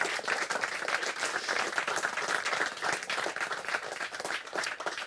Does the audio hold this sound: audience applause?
yes